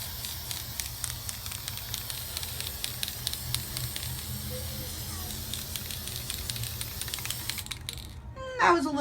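Spray paint hisses onto a plate for a second gold coat in short bursts over several seconds at close range, ending with a brief louder rattle.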